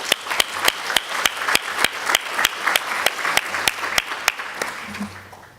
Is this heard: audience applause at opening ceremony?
yes